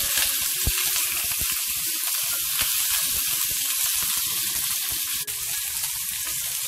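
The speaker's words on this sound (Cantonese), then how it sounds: "煎一煎呢個排骨" Pork ribs sizzle and spatter in a hot pan, a close, continuous frying hiss broken by small pops and crackles, with no voices.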